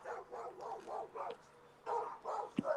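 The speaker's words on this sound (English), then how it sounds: "tell that dog to shut the fuck up" A dog barks repeatedly in steady bursts, a run of five or six barks, a pause, then more, fairly loud and close, heard over a call-in connection with no talk.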